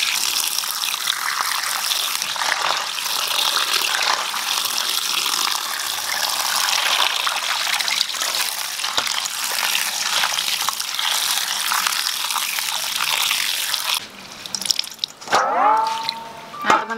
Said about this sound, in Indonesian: Setelah ini kita cuci dengan air dingin yang mengalir ya.